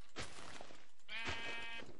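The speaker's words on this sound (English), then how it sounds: "There's a hole full of sheep!" Sheep bleating in the Minecraft video game, two wavering electronic bleats close together, each a short buzzing call with a rough, tremulous tone, clear and fairly loud with no talk.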